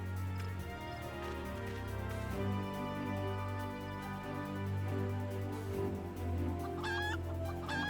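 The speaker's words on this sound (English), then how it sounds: "What are they doing to the chickens in there?" Chickens in the video game Final Fantasy XIV cluck and squawk repeatedly over a low droning music bed, with a higher squawking call near the end.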